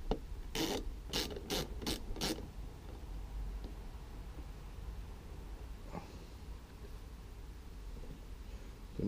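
Screws tightened on a 2011 Vauxhall Insignia headlamp unit: five quick, close ratchet clicks at the start, then a quiet stretch with faint background hiss and one soft knock.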